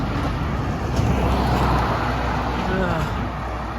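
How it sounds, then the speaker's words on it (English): Trucks roar past on a 40 km/h road, a dense continuous rumble of engines and tires, loud and close, with a voice murmuring beneath. "Noisy trucks."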